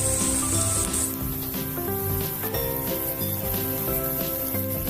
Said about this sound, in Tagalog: gisa lang po ang ating sibuyas hanggang mag-translucent. At isunod na rin po natin ang ating garlic